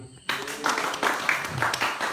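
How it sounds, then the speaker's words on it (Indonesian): An audience at a book discussion event breaks into brief applause, uneven clapping that starts suddenly and pulses in a few loose waves over roughly two seconds. "Tepuk tangan dulu."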